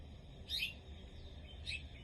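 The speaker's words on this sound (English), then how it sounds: "I know you can hear that, baby bird." A baby bird chirps twice, each a short, high, bright call about a second apart, faint and somewhat distant over a quiet room hum during a yoga class.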